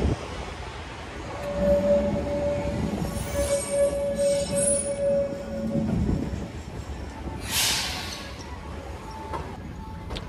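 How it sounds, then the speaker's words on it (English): Auckland Dockline tram running, a steady rail rumble with a sustained squealing tone from the wheels and a brief hiss partway through, heard close up without talk. "Lovely little tram, and I better make my way over to Paul."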